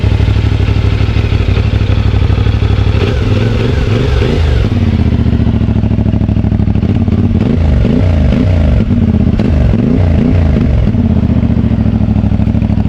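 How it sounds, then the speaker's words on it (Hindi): Loud, close idle from a CF Moto 450 MT 2025 motorcycle with stock exhaust, broken by two bursts of sharp throttle blips, a few quick revs each, before settling back to a steady rumble. "बेहतरीन आवाज़ है, स्टॉक की भी बड़ी प्यारी आवाज़ है।"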